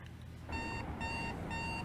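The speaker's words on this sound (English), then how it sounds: "I reach out and slap down on my alarm clock." An alarm clock rings in a video game, a loud electronic beeping in three repeated bursts of rapid pulsed tones over a low background hum.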